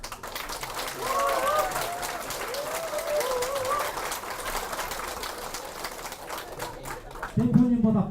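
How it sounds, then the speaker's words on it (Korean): Audience clapping at a Korean political campaign event in Gimhae, a steady wash of applause across the clip while someone talks over it with a brief loud voice near the end. "대표님보다 박수를 많이 치시면 안 됩니다."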